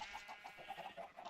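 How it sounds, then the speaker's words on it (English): Chickens in Minecraft cluck in a quick, steady string of short clucks, heard alone against a faint hiss. "Chickens."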